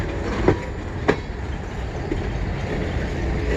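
A CN M382 freight train rolls past in Kimball Township, a steady rumbling wash of rail noise with two sharp clanks early on and softer wheel clatter throughout.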